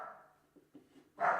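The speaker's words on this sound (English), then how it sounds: "You might be able to hear my dog in the background." A dog in the background gives a couple of short barks, one faint and one louder at the end, distant and muffled in an indoor room.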